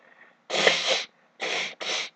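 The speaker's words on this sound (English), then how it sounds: "I just need to blow my nose" A person blows their nose three times up close: one long honking blast followed by two shorter ones in quick succession.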